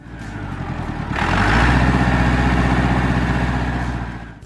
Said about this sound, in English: The MF 265 is powered by a 318 cubic inch Perkins diesel 4-cylinder engine